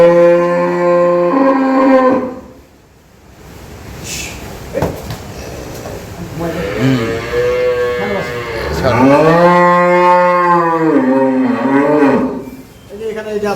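A dairy cow and her week-old calf moo on a farm, several long, drawn-out lowing calls, close and loud, with a brief quieter gap and some handling noise between calls.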